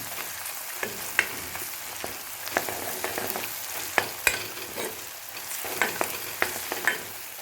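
Chopped onion and chicken frying in a pan for a chicken gravy, with a steady crackling sizzle and repeated sharp clicks of a spoon scraping and stirring throughout, no voices.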